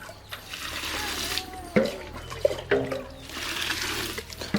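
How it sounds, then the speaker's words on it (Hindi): Kalmi saag greens are washed by hand in water in a home kitchen for a Jharkhandi recipe. The water sloshes and splashes continuously close by, with a few sharper splashes mixed in. "अभी इधर हम लोग साग को बढ़िया से धो लेते हैं ना जी"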